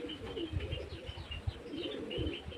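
Pigeons on a house rooftop coo in soft, low, repeated throaty pulses, with a few faint chirps above them; close and gentle, with no voices.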